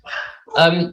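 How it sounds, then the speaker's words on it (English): Dogs bark in the background in two short bursts, the second louder and fuller, with no speech between them. "I can only apologize for the dogs in the background."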